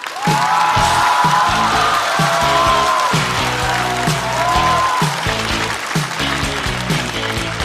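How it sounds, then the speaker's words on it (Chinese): A stand-up comedy audience greets a comedian with loud, sustained clapping and cheering, a dense wash of applause with whoops filling the room, while upbeat music plays underneath. "掌声欢迎小齐"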